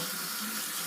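Tap water runs steadily into a sink while it warms up, before washing Lionel postwar rolling stock, a loud continuous close-up hiss and splash with no voices.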